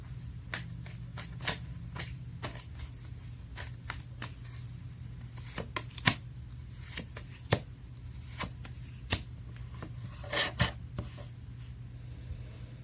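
Tarot cards are shuffled and drawn close up: a quick, irregular run of crisp flicks and snaps over a low background hum.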